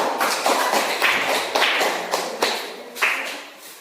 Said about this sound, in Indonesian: kita kasih tepuk tangan buat Dwi.